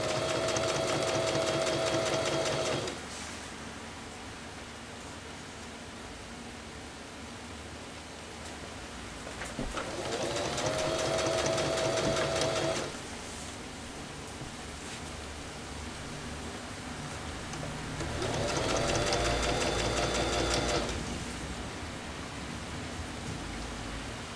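Sewing machine stitching a fabric scrunchie, a steady whirring hum that runs in three bursts of a few seconds each, separated by quieter pauses.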